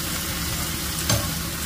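Water spinach with soy sauce sizzles steadily in a hot pan with a brief scrape of stirring, a close continuous frying hiss.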